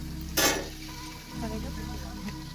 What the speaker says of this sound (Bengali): আমি এখন ভাজবো এই দেখো আমার কড়াই গরম হয়ে গেছে